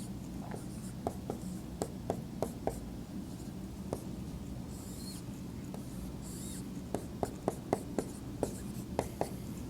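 Handwriting of a calculus substitution solution involving arcsine, with pen tapping and scratching across paper in quiet, irregular clusters of sharp ticks, close and fairly faint.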